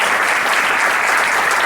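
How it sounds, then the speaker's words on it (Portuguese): A church congregation claps together during a worship service, a dense, loud, steady applause sustained throughout with no talk over it. "Vamos agradecer com as nossas palmas"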